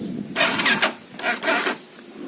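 A Viper 200 F5 motorcycle engine cranks in a few strained bursts with pauses between, as if struggling on a weak battery, moderately loud and close, with no talking.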